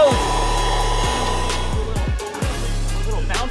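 An electric air pump inflates plastic floats for a homemade fishing boat, a loud steady motor drone running close throughout with a few short thumps, while people talk briefly over it.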